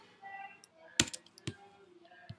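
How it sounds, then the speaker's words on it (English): Keys on a computer keyboard clack in a few sharp, uneven taps close by, with quiet murmuring in the background. "So I'm going to start typing in max."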